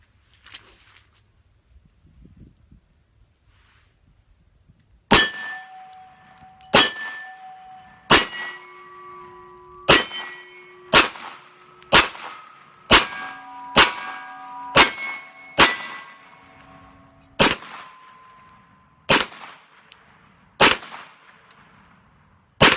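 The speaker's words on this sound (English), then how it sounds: "We'll try to double tap each one, and then we'll see if we can put a couple on the gong." Pistol shots from a Smith & Wesson M&P 2.0 ringing steel gong targets at a shooting range, about fifteen sharp cracks, each followed by a bright metallic clang that rings out, fired singly and in quick double taps after a quiet start.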